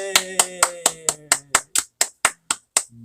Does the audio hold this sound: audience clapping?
yes